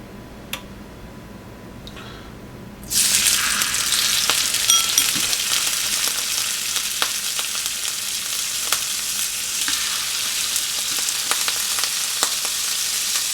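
Chicken wings hit hot sesame oil in a pan and burst into a loud, dense, continuous sizzle after a few quiet seconds, with scattered crackles and pops throughout.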